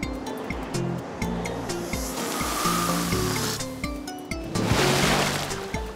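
Sea waves washing below in a kids' cartoon about trucks and cars, a surging rush of surf that swells and fades under light musical tones.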